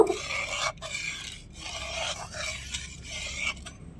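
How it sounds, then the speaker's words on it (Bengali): A spoon scrapes and rasps against the pan while mustard spice paste for hilsa curry is stirred, in repeated rhythmic strokes with brief pauses between them, close and clear. "মশলাটা এবার একটু ভালো করে মিশিয়ে নিব"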